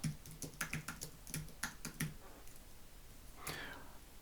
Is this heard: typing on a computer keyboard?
yes